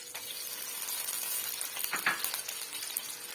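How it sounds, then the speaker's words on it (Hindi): Chicken fries in two to three tablespoons of oil in a pan, a moderate steady sizzle with a few light clinks and stirring scrapes near the middle. "इसके अंदर जो है मैंने 2 से 3 टेबलस्पून के करीब ऑयल ऐड कर दिया। इसके अंदर अब हम अपना चिकन ऐड कर लेंगे"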